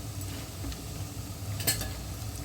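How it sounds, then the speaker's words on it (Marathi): Dried turmeric roots roast in about two ladles of hot oil, a soft steady sizzle with a few sharp crackles and pops near the end, heard close and quiet. "तर आता मी इथे 2 पळी तेल घेतलेलं आहे, कारण मला इथे हळकुंड भाजून घ्यायचं आहे."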